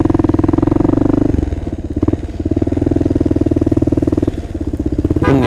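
A Kawasaki KLR650 motorcycle engine running close by with a loud, steady single-cylinder thump, the pitch dipping and rising slightly a few times as the throttle shifts.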